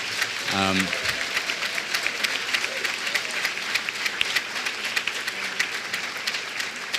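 An audience claps for the awardees at an annual meeting and village awards evening, with steady, even applause lasting several seconds and a voice briefly heard near the start.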